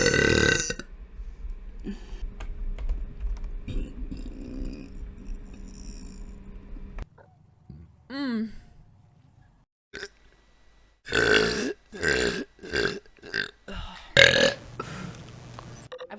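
Several loud, close burps from a female Twitch streamer, sounding in separate bursts with short pauses between them over a steady room background.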